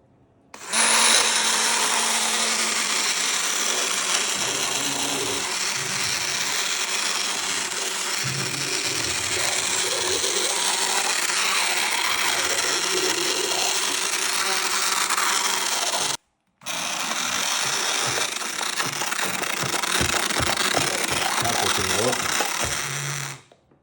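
A stick blender, or blitzer, whirs steadily as it purées cooked apples for marshmallows. The buzzing motor runs continuously and loud for about fifteen seconds, stops briefly, then starts again with uneven grinding.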